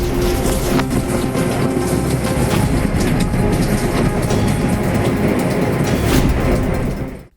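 A train runs on rails with its loco pilot driving, a loud continuous rumble and rattling clatter of wheels heard close up, steady throughout before cutting off.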